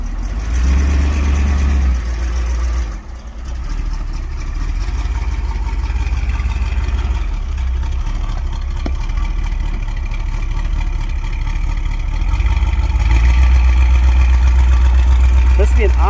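A 1960 Ford Thunderbird convertible with a 430 V8 driving slowly at an auction lot, a steady deep engine rumble throughout with a brief dip, loud and close, with people talking over it.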